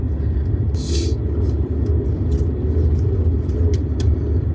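A Suzuki Jimny rolls downhill on an icy dirt road, its tyres sliding over ice-covered mud. A steady low rumble of engine and ground runs throughout, broken by a couple of brief hissy bursts.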